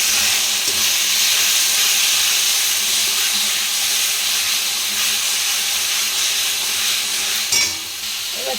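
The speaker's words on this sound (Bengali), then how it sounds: "এবার জিরে হলুদ লঙ্কা গুঁড়ো নুন সব দিয়ে দিচ্ছি। এবার নাড়িয়ে দেবো।" Cumin, turmeric, chilli powder and salt fry in a pan for chicken curry, a loud continuous hissing sizzle with faint stirring, close up and without talk, dropping off slightly near the end.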